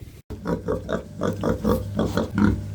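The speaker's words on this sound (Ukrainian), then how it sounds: "Що? Свинка? Кабанчики." Pigs grunting in a quick run of short, low snorts, close and fairly loud, about a dozen in a steady rhythm, on a Ukrainian farm.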